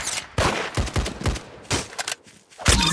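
Bursts of gunfire from a shooter video game ring out in quick, loud volleys of sharp shots separated by brief gaps, close and punchy with no speech over them.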